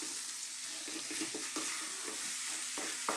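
Curry spice powders fry in a pan for an Indian masala beef curry, giving a continuous close sizzle broken by soft scraping as they are stirred, with no talking.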